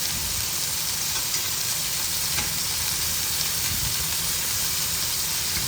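Water poured into a hot frying pan sets off a steady, broad sizzle that hisses evenly and close by for the whole stretch, with no talking over it.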